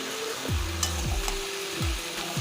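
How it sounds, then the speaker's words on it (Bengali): Young Malabar spinach leaves sizzle and fry in a pan, a soft constant crackle of hot oil under several low hollow knocks as the greens are stirred. "তো দেখো এই পুঁই শাকগুলো এর মধ্যে দিয়ে দিলাম, আরও কিছুক্ষণ কষা করে নেব"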